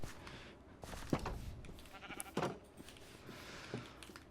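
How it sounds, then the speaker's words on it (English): Baby sheep bleating in a farming video game, several short wavering bleats at uneven intervals over a quiet ambient background, fairly soft and with no talking. "Amazing, we got baby sheep."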